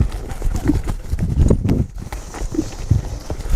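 Cutting horse hoofbeats in the arena as the horse works head to head with a cow, a steady run of dull thuds and clip-clops, close and fairly loud, with no talking.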